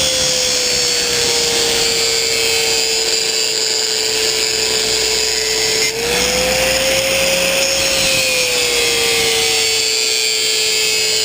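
Angle grinder running continuously close by while shaping wood, a loud steady high whine that briefly dips and rises in pitch midway, with no talking.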